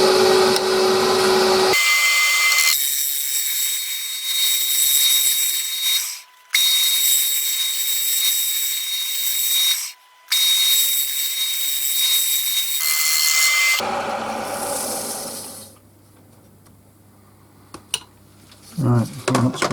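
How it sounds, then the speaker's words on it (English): A wooden lidded pot being scraped on a running lathe: loud, continuous rasping with high tonal whine, briefly dipping twice, then the cut stops and the lathe winds down to a low hum and a few faint clicks. "I'm going to do a little bit of scraping"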